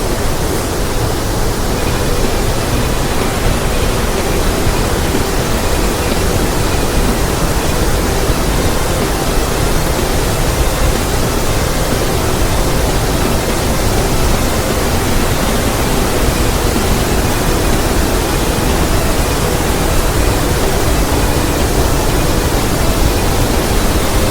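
A waterfall pours through a narrow sandstone canyon: a constant, loud, broadband roar with no pauses or changes, and no voices.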